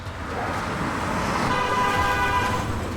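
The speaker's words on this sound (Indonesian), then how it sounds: "tiba-tiba ada mobil lewat dengan kencang" In the Steins;Gate game, a car speeds past with a loud, close rush of engine and road noise, a horn-like tone rising partway through, lasting about three seconds.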